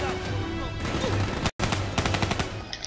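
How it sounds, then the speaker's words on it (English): Gunfire from the Black Ops 3 campaign, a string of sharp game shots and bursts over a steady battle din, with a brief dropout midway followed by rapid repeated shots. "That was a terrible shot."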